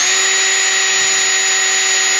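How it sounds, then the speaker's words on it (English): A power drill whines loudly and steadily as it drills out rivets on a Mazda Miata soft top frame, a sustained high-pitched tone close by with no talk. "you're just gonna kind of start drilling all the rivets out"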